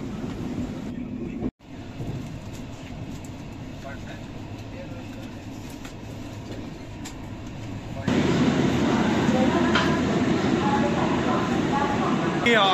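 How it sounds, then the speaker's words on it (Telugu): Interior rumble of an Indian passenger train from Anand Vihar running fast toward Kanpur, a steady broadband roar that swells louder partway through, with a brief dropout near the start. "ఇప్పటిదాకా అయితే ట్రైన్ ఫాస్ట్గా వెళ్తుంది"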